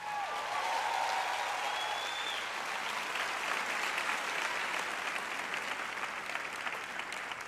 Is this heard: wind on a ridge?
no